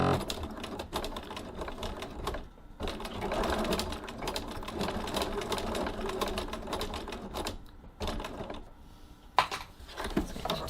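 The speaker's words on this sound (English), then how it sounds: "So now we shall finish stitching our strap." A sewing machine topstitches the adjustable strap of a tote bag in rapid, clattering runs broken by short pauses, close and fairly quiet.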